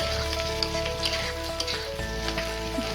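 Fish roe, rubbed with salt and turmeric, frying in hot oil with spices and mango in a pan for a tamarind chutney, giving a steady, close crackling sizzle with scattered pops throughout.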